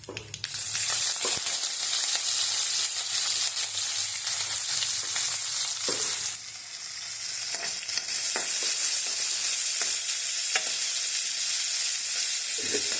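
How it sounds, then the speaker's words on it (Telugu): Onions sizzling and frying in a hot pan after curry leaf tempering, a continuous bright crackle with a brief dip midway, no voices. "ఇప్పుడు ఉల్లిపాయలు వేద్దాం. వేగిపోయింది."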